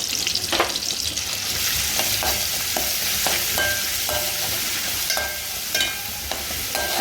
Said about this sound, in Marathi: भाजून घ्यायचं मस्त आणि शिजला ना त्याच्यात हळद मसाला टाकायचा